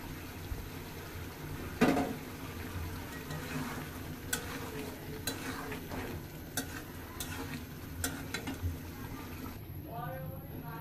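An egg and potato curry simmers and bubbles in a pan, with quiet scraping stirs and a louder clatter near the start, all under a soft continuous cooking hiss.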